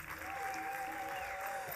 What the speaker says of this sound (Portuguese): Fortes aplauso para a camisa de Forza.